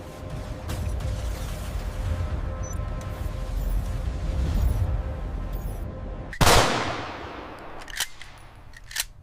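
A Glock 17 pistol test-fired at the factory, one sharp, loud report that rings out and decays, followed by softer mechanical clicks, after a long stretch of steady machinery hum.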